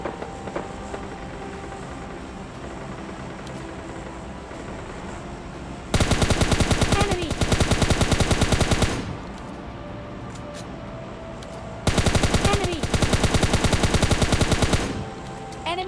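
Rapid automatic gunfire in the PUBG Lite battle royale game comes in two long sustained bursts of about three seconds each over a low background game hum.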